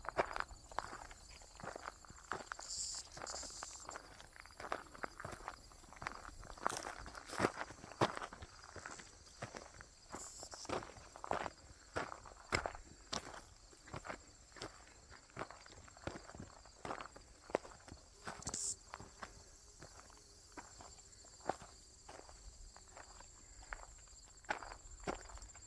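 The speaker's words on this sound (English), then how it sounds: "And my footsteps." Footsteps crunch steadily through dry tallgrass prairie on a hike, a near, continuous series of rustling steps with occasional louder brushes of vegetation and no talking.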